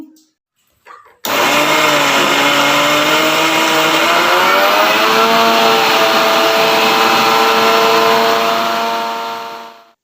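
A kitchen mixer grinder blends garlic chutney with grated coconut and water, its motor snapping on after a brief silence into a loud, steady whine that holds for about eight seconds before winding down.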